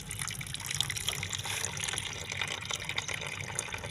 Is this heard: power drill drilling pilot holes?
no